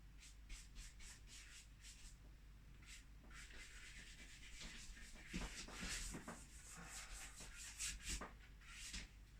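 An eraser scrubs across a drawing surface, a series of quiet, close rubbing strokes in uneven bursts, faint and dry, with no talking.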